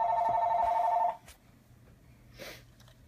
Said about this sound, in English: as soon as the phone stops ringing